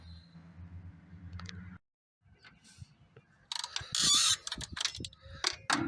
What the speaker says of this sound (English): I try to break at least the bottom bolt loose, the top one and stuff.